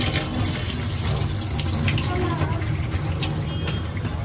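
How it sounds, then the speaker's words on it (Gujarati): Running water pours steadily from a tap while bitter gourds are rinsed and rubbed, a continuous splashing wash throughout. "કારેલા આપણે 2-3 પાણીથી ધોવાના છે"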